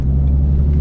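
A car passes close by on a road, a loud, deep, steady engine rumble heard right up near the listener for a brief moment.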